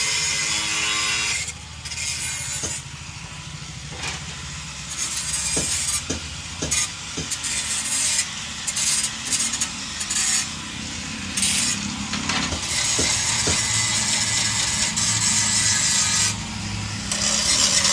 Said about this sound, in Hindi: दूसरे वाले पल्ले पे भी लगा दिया निशान और काटने लग रहे मिस्त्री